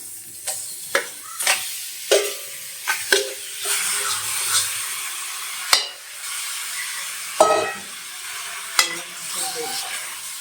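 Chicken marinated in turmeric and salt dry-fries in an oil-free kadai, giving a steady moisture hiss broken by repeated sharp scrapes and stirs of the spoon against the pan, close and fairly loud.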